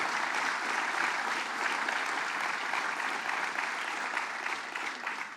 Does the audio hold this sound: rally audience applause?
yes